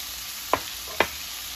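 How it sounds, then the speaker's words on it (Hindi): Fried chicken Manchurian stirred in a hot pan, with two distinct scraping strokes over a steady loud sizzle, close up and without voices. "और अच्छे से मिक्स कर लेती हूँ।"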